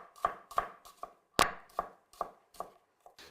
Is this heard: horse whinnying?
no